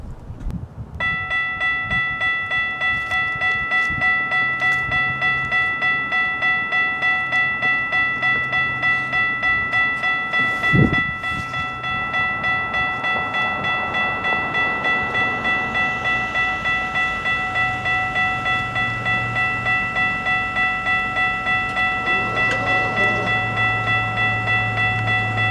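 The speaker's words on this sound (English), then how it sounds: "here's the exact same train coming back, except this time it's stopping" A GO Transit commuter train arrives at King City GO station and slows to a stop, with a steady ringing bell or tone held throughout, a brief horn-like blast midway and rumbling rail noise.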